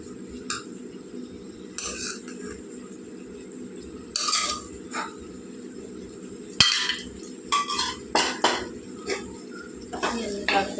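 A spoon stirs a drumstick and raw prawn curry in a metal pot, making scraping clinks and knocks in uneven bursts close by, with someone talking between them over a steady background hum.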